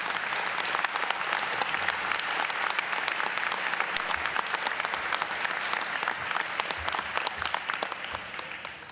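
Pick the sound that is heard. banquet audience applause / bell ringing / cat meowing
banquet audience applause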